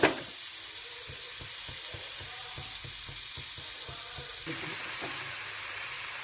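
Potatoes and tomatoes fry in a pan with chilli powder, giving a steady close sizzle with a run of quick clicking scrapes, likely from stirring. The sizzle grows a little louder near the end. Nobody speaks.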